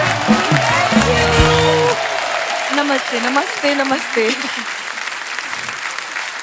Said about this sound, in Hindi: जोरदार तालियां हो जाए हमारी टीवी की क्वींस के लिए।